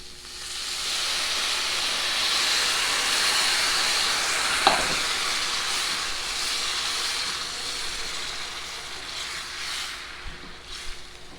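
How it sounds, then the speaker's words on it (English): Red wine simmering down in a pan with lamb shanks gives a steady, fairly loud hiss throughout, with one brief sharp clink near the middle and no talking. "You want to stir this a few minutes and let the wine simmer down."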